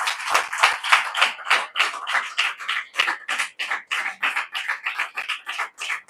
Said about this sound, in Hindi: जोरदार ताली बजा दो यीशु के लिए